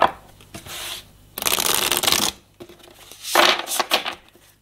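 A deck of cards is shuffled for a spiritual card reading, making three loud, close riffling bursts separated by short pauses, with no speech.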